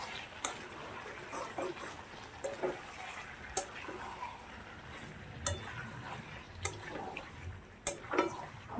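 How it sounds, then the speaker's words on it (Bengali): Fried capsicum is stirred into chicken kosha curry in a pan. The oil sizzles steadily beneath repeated sharp scrapes and clacks of the spoon against the pan, close and moderately loud. "এই সিমলা মির্চটা আমি ভেজে রেখেছিলাম, সেইটা এবার দিয়ে দেবো। ভালো করে মাংসের সাথে মিশিয়ে দেবো।"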